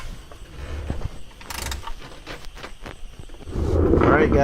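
A ratchet tightens the transmission fill plug on a Nissan 350Z, giving short bursts of close mechanical clicking with a louder scraping rush at the end.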